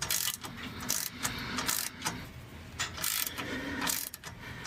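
Ratchet tightening a bolt during a turbo install on a 2006–2009 Dodge Durango, with bursts of rapid clicking repeating in short strokes, close and moderately loud over a noisy garage background.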